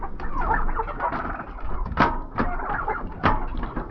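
Hens clucking in a farm coop, with an overlapping run of short, busy clucks and squawks close by and two sharper, louder calls standing out.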